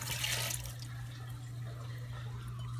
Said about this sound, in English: So now the next step is to pour in our brine mixture.